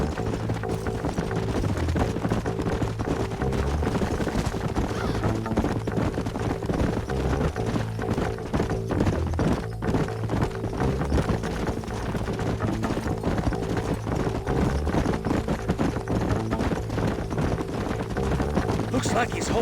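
Horse hooves clip-clop steadily in Red Dead Redemption, a continuous rhythmic trot layered under dense game music and ambience, fairly loud and unbroken throughout.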